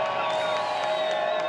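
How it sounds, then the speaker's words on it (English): Crowd cheering and whooping at a STIHL Timbersports World Trophy 2022 competition, a steady wash of many voices sustained throughout the short stretch. "we can see and hear the crowd there loving every minute of this"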